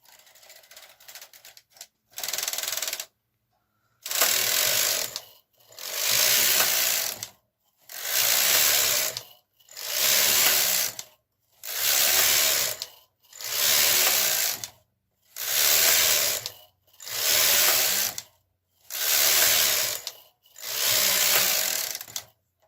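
A KH 230 knitting machine carriage knits a long right sleeve, sliding back and forth in about ten even, evenly spaced rasping passes separated by short silences, close and loud.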